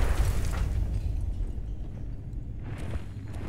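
A grenade goes off in Escape from Tarkov, heard as a loud, rumbling low-end blast that fills the opening and then fades into a sustained deep roar and rumble.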